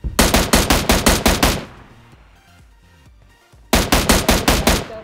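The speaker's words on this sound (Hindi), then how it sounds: "मैंने M16 मारी फिर इन्हें।" M16 rifle gunfire in the PUBG video game: a rapid burst of about eight loud shots, a quieter stretch of fainter distant shots and rumble, then another fast burst of roughly six shots, no talk.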